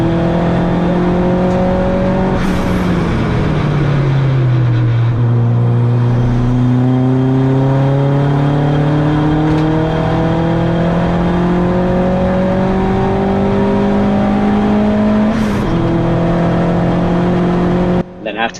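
A touring car engine during a Turbo Tin Tops race at Donington, heard loud and close from inside the car as a steady droning roar that rises and falls through gear changes, with talk over it.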